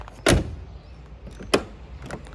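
An old Tofaş car door opening with sharp mechanical clicks, two distinct latch clacks about a second apart and a fainter knock after, close up, with no talking.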